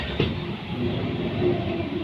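Sairang–Kolkata Express pulling slowly out of New Farakka Junction, a low continuous rumble of rolling carriages, close and even, with a faint tonal hum and no voices.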